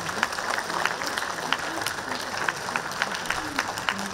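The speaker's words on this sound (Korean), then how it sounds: "우리 주리춘에게 다시 한번 박수를." A crowd applauds steadily at a Korean American Day proclamation celebration, with continuous clapping and voices mixed in at moderate volume.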